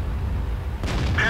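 A tank cannon fires once in a video game battle. A sudden, sharp boom lands near the end and cuts over a steady low engine rumble.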